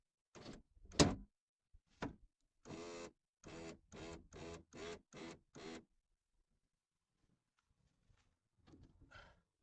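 A car power window motor driving the glass down during a DIY repair, heard as a run of short, evenly spaced whirring bursts up close after a louder clunk, then quiet.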